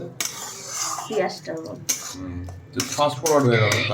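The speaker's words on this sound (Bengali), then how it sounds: "এবার এইটা কিন্তু খুব ভালো করে নেড়ে নেব" Spoon or spatula scraping and clattering against a wok while onion paste with green chilli, salt and turmeric is stirred for a stuffed leta fish fry, irregular metallic knocks under a person talking.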